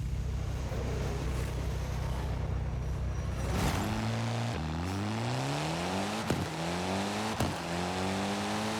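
Race car on the South Japan Circuit in the video game Forza Horizon 5, a steady engine drone that breaks into rapid upshifts, the engine note rising and dropping repeatedly as it accelerates, loud with no talking.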